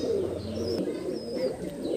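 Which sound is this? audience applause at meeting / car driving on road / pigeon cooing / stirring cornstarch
pigeon cooing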